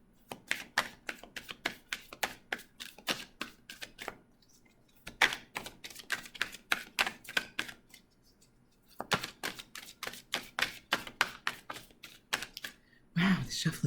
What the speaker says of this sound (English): Wow, the shuffling is taking a long time.